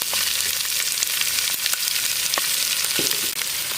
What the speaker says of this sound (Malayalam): സവോള ഇട്ട് കൊടുക്കുക.